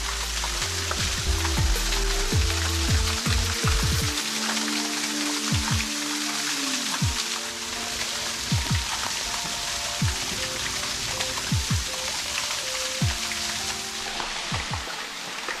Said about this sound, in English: Alrighty, made it to the first waterfall.